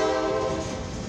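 Westbound CFE-09 mixed freight and grain train sounds its horn as it passes, a loud, close, sustained chord-like blast lasting about a second over rumbling rail noise.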